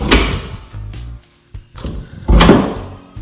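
Apartment double doors are opened, giving two loud thumping bumps about two seconds apart with faint rattles and knocks between them, close by and without talk.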